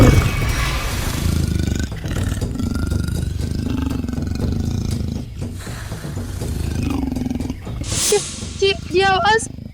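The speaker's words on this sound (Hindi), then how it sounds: "तेंदुए के गुर्राने की आवाज है।" A leopard growls in a jungle, a low, rumbling snarl running steadily for several seconds amid a dense, noisy background, with sharper high-pitched calls breaking in near the end.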